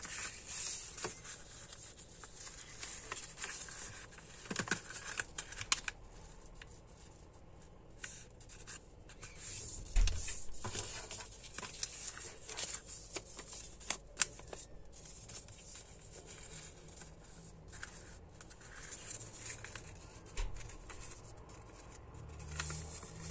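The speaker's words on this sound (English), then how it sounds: "We're going to take our first square and fold them in half 3 times." Square sheets of colored craft paper are folded in half again and again for festival decorations, producing soft crinkling, rustling and faint creasing scrapes, quiet and close, with irregular handling noises and no speech.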